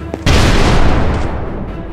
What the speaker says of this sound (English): Or even a dramatic and cinematic explosion.